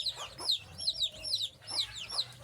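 Desi chickens on a farm cluck in quick repeated bursts, several birds calling close by in an uneven rhythm.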